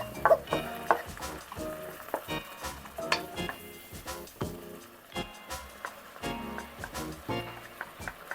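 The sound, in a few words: green beans cooking in wok with stock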